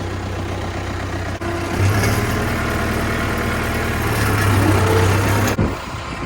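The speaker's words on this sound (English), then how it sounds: "take this tractor and the wagon, and I'm going to drop it off over at the field I'm going to combine" A farm tractor pulling a wagon out to a corn field, its engine running steadily and close by with a low throbbing drone that swells in load a couple of times, with no talk over it.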